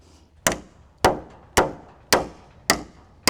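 A big hammer strikes wood while roof trusses go up on a large building, five sharp ringing blows landing at a steady, unhurried pace, each with a short decaying tail.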